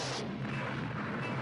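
Explosions in a Rambo movie trailer: a dense, loud, continuous roar of blasts and rumbling booms with no pause across the clip.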